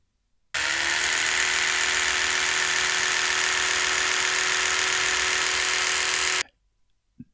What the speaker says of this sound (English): It was my electric toothbrush.